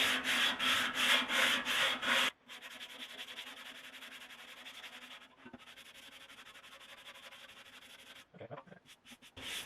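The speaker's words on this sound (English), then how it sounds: "So I got my flat sander here, because everybody says you gotta sand with a flat thing." A flat sander rasps across the fuel tank of a Yamaha SR500 motorcycle in steady repeated strokes, first loud and pulsing, then a quieter continuous scraping with short pauses.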